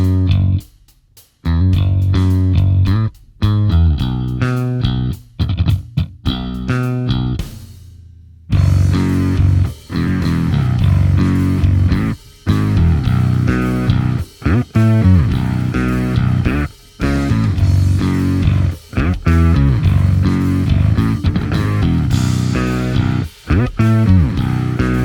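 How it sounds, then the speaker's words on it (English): A Darkglass KAAMOS distortion and octave pedal drives a heavily distorted bass, loud, with punchy rhythmic notes and chords separated by brief sharp stops, playing alone without talk. "This is the KAAMOS from Darkglass Electronics, and it's their new distortion and octave pedal"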